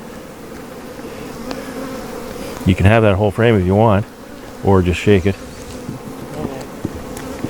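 Honey bees from a queenless hive swarm around a lifted frame with a constant close buzzing hum, while a beekeeper speaks briefly over the drone in the middle.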